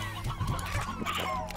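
Hens cluck in the video game Slime Rancher. The short, busy clucks overlap against a steady background of game music and ambience, moderately close, and nobody talks over them.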